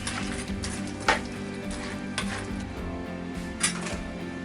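Oxtail with onion, salt and pepper being stirred in a pot, a low, steady frying sizzle with a few sharp knocks of the spoon against the pot, close and moderately loud.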